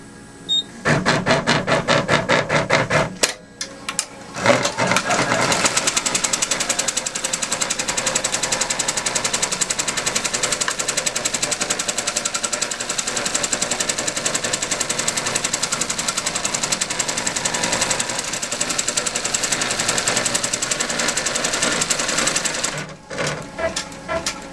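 An embroidery sewing machine stitches the first color of a crazy quilt block on hooped stabilizer, a loud, steady rapid needle chatter running nearly nonstop after a few brief starts and stops, then halting near the end.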